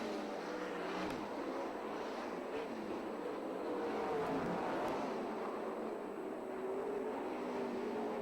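SCRA sprint cars race a heat on the dirt oval at Perris Auto Speedway, a continuous distant engine drone with slowly wavering pitch as the pack circles the track.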